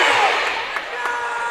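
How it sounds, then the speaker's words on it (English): Home crowd at a Luling Eagles high school game cheering as the Eagle cheerleaders lead them, a steady broad roar of many voices with a few sharp claps or shouts poking through, fairly loud and sustained. "got the Eagle cheerleaders here leading the crowd"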